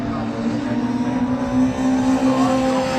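Mini Se7en race cars at Snetterton cross the finish line, their engines a loud, steady droning whine with a strong sustained tone. A commentator talks faintly underneath.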